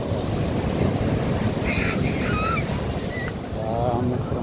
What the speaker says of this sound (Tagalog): Ito talagang ang alon na ano, puti-puti.